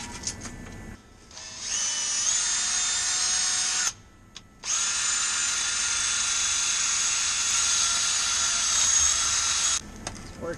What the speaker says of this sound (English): I'm gonna try hitting it with a wire wheel.